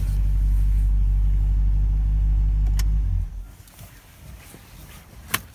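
A 2022 Dodge Durango SRT 392 with a 6.4-liter HEMI V8 idles with a loud, deep rumble and then shuts off abruptly, leaving quiet cabin ambience and a single soft click near the end.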